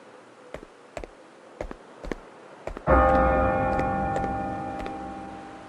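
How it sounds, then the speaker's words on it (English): In the video game Bravely Default II, a clock ticks in sharp, evenly spaced clicks, then a single loud bell strikes and rings out, its resonant tone slowly fading. "The bell!"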